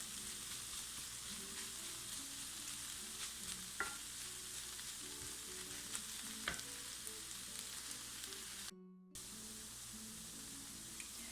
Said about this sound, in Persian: حدود 2 دقیقه هم سیب زمینی ها رو با بادمجون تفت میدیم